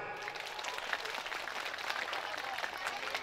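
Audience applause at a religious commemoration gathering at an Islamic boarding school, steady dense clapping from a crowd, moderately distant, lasting throughout.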